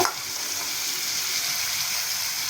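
Black chickpea sundal hissing and crackling in a hot kadai with tempering, a steady, close, even sizzle throughout with no voices.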